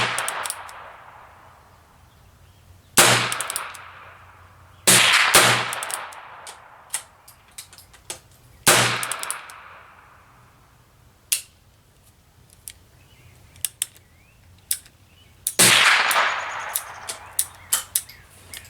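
An S&W Model 17-3 and a Heritage Rough Rider .22 LR revolver fire at an outdoor range, giving sharp separate cracks spaced by pauses, some followed by metallic clicks and clinks, with no speech.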